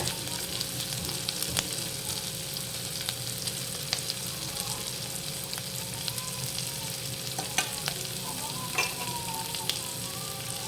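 Onions for a prawn curry with tamarind leaves sizzle steadily in a hot pan, a constant close frying hiss with occasional light scrapes and pops of stirring.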